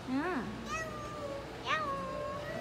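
A young child imitates a cat's meow twice, a drawn-out rising and falling cry followed by a second, higher one, close and clear against quiet background.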